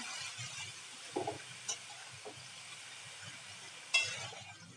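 Chopped cabbage sautés in a pan with a low, steady sizzle, broken by a few soft stirring scrapes and the occasional light clink of a spoon against the pan.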